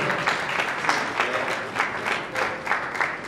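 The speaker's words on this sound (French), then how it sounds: "Est-ce qu'on peut applaudir, s'il vous plaît?" Steady clapping from a crowd, a dense rolling patter with periodic swells, fairly close and continuous throughout, with no talking.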